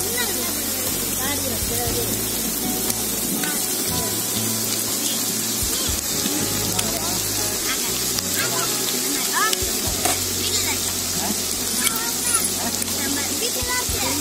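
Onions sauté in a pan in a village family kitchen, a steady crackling sizzle throughout, with a voice speaking at times over the cooking.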